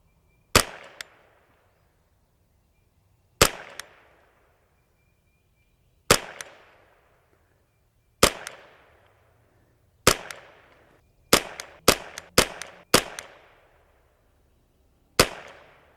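A JPRFX semi-automatic .22LR rifle fires nine sharp, separate shots with uneven pauses between them, some spaced seconds apart and others in a quick cluster, each crack followed by a brief decay in an open outdoor setting.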